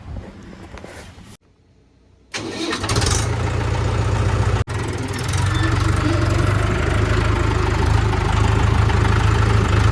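Tractor engine running close by: a rough idle falls away briefly, then restarts and settles into a loud, steady low chugging throb for the rest of the time.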